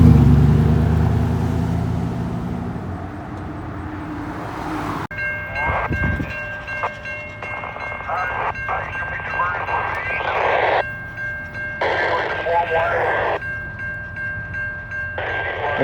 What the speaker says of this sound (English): So we got a big train be coming right through here.